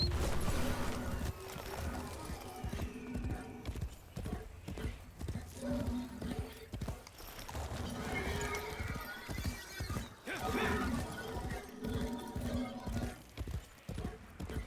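Steady clip-clop of horse hooves in the video game Warframe, loud and close, with an occasional whinny rising over the rhythmic stepping and some faint background noise.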